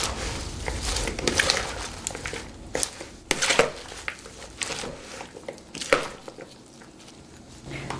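Ranch salad dressing stirred in a bowl gives wet squishing sounds and irregular clinks of a utensil against the bowl, close and moderately loud, with no talking.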